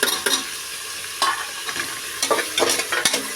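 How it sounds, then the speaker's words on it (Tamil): Ginger garlic paste frying in a pan, a steady close sizzle broken by repeated scraping stirs of a spoon against the metal, with no voices. "இப்போ நம்ம வந்து இஞ்சி பூண்டு பேஸ்ட் நம்ம ஆட் பண்ணிக்கலாம்"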